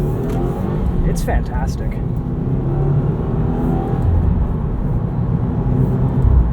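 A 2020 Subaru WRX Premium in white cruising under normal driving, its steady engine and road drone filling the cabin at a constant level beneath someone talking throughout.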